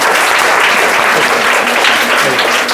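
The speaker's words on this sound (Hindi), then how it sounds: "चलिए ताली बजा दो इसके लिए।" Sustained applause from a crowd of students at a school prize ceremony for a grammar test, loud and continuous with no break, clapping blending into a dense wash.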